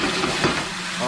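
Shrimp sizzling and frying in a pan, a steady broadband hiss with a brief stir or scrape near the middle, fairly close and continuous.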